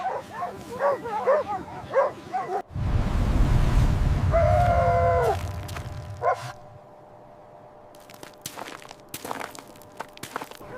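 A team of dogs gives a burst of barks and yips at the start, then a loud rushing noise and footsteps take over before fainter scattered sounds follow.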